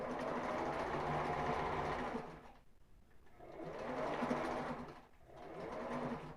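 A sewing machine stitches a ribbed knit tank top in three quick bursts of rapid mechanical whirring, separated by brief pauses, close and clear.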